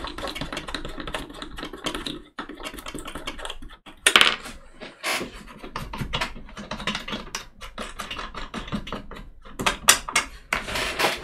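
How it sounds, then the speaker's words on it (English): Small central screws are undone on a model ship tilt-and-swing painting jig, producing close, dense, irregular ticking and light mechanical clicking like tiny ratcheting. "So pretty much all you have to do now is just undo these little central screws."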